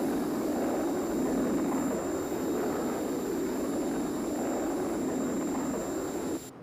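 The Thunderbird 1 craft roars steadily on its approach to London Airport, a continuous loud engine drone with a thin high whine that holds level before dropping away abruptly at the end.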